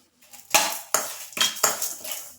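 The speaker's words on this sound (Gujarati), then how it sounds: "આ બધા મસાલા છે તે બરાબર મિક્સ કરી લેશું." A spoon mixing whole spices such as cloves, black pepper and cumin in a bowl for an instant mango-chili pickle: four or five quick, close metallic scrapes and clinks in a short irregular run.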